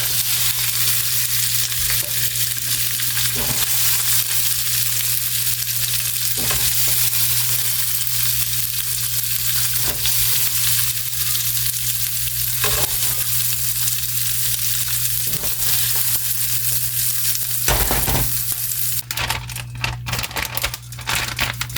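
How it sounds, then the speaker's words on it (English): Vegetables sauté in a pan with a loud, steady, close sizzle and crackle that continues throughout, with occasional stirring scrapes. "I didn't want to saute them till they're totally soft because they are going to simmer in with juice"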